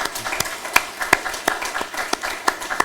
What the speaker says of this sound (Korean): 우리 한번 보고 박수라도 한번 신나게 한번